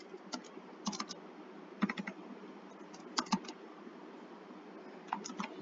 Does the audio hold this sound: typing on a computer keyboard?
yes